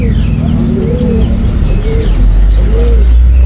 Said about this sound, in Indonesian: di sini ada yang namanya burung poksai jambul atau poksai haji.